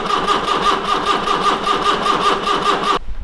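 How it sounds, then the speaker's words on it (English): A small engine, primed with brake cleaner through the carburettor, catches and runs with a rough, pulsing beat for about three seconds before abruptly cutting out. It is loud and close, with no talking. "Since she doesn't want to start, we just put a bit of brake cleaner through the carby, so."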